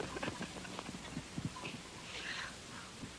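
Horse hooves clip-clopping faintly in an irregular walking rhythm under a quiet, hissy background.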